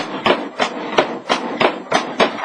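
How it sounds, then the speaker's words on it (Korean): A hammer strikes heated iron being forged into a traditional Korean sword, seven sharp, evenly spaced metallic blows in a steady rhythm, close and loud with no talk. "매일같이 뜨거운 불 속에서 달구어진 철을 망치로 두들기는 이 사람."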